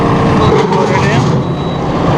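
Tractor PTO driving a RhinoAG TW26 heavy-duty rotary brush cutter, engaging through a dual-stage clutch. A loud, dense diesel drone and rumble fills the clip with mechanical noise.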